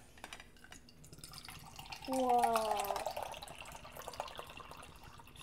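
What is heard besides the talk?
banana rice punch drink being poured into a cup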